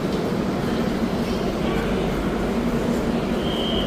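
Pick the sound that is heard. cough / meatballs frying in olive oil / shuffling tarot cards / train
train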